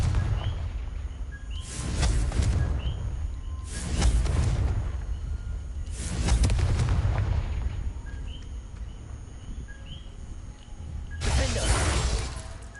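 Confringo blasting spell explosions from a Harry Potter video game, four heavy booming blasts spaced a few seconds apart, each with a crackling, shattering burst, over a low steady background rumble.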